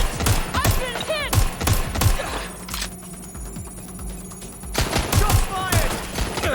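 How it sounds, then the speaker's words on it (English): Rapid bursts of gunfire crack and rattle in a Watch Dogs Legion gunfight, loud and repeated, with a short lull in the middle and a ringing tone running underneath. "Damn it! Shots fired!"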